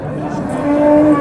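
Angus cattle lowing at a busy livestock market, a sustained moo swelling louder toward the end over steady background crowd noise.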